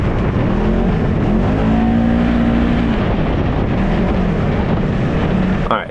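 A new 2022 Polaris RZR off-road side-by-side drives on dirt trails with a loud, steady engine drone close by, heavy wind buffeting, and a slight rise and fall in engine pitch.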